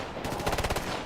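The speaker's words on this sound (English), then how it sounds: "Taking heavy fire!" Heavy gunfire in a Ghost Recon video game, a rapid burst of automatic weapon shots firing in quick succession, loud and close, lasting under a second amid a background rumble.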